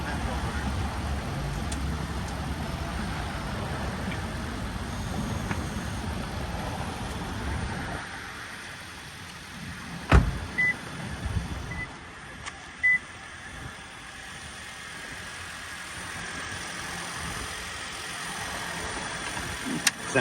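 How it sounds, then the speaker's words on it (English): A Toyota Prius V hybrid idles after a cold start, its engine giving a steady low rumble that drops away partway through, with a few brief beeps and light sounds nearby. "Takes a minute for a hybrid to crank up. I actually had to give it gas."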